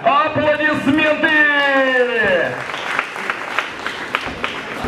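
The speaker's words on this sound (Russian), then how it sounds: "Гарько! Аплодисменты!" Audience at a Tatarstan Boxing League event in Kazan applauds loudly; a sustained voice carries over the clapping at first, then the crowd claps on alone with scattered sharp claps.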